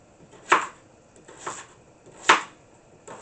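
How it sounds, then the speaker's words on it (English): Knife cutting through a potato on a board, four sharp separate chops about a second apart, close and fairly loud over quiet background. "So I'm going to cut up the first potato."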